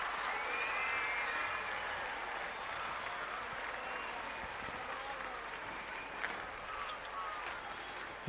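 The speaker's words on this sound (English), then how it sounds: "Now you'll hear the atmosphere building. The claps are going" A crowd at an outdoor athletics stadium claps rhythmically, a broad steady wash of applause heard from a distance, with an announcer talking over it.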